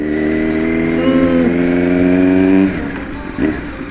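A Kawasaki Z900 motorcycle engine runs loud and steady while ridden, its rich harmonic drone holding and rising for about two and a half seconds before easing off, with a brief surge near the end.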